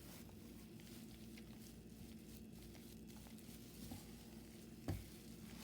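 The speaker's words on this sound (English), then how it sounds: "You have to stir it very well." Ajaca being stirred in a pot gives a steady, low scraping swish that runs without a break, with one louder knock or scrape near the end. No one speaks.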